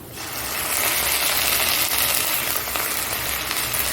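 Ginger and garlic paste sizzling in a pan with frying onions, a steady close hiss and crackle of hot oil that holds evenly throughout, with no voices.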